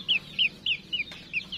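Young pullet chickens cluck in a series of short, bright calls, about six spaced bursts close by over a quiet farmyard background.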